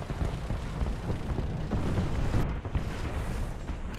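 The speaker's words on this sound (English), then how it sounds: "Calling artillery on him again." Rumbling artillery strike explosions in War Thunder, a T-34E tank battle, a steady low roaring blast with dense debris noise that holds for the whole stretch without a sharp single boom.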